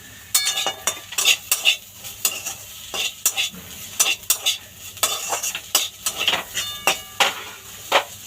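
A utensil scrapes and clanks against a pan while beto shak greens are stir-fried with a little sugar, giving sharp irregular metallic knocks over a soft sizzle, close and with no talk.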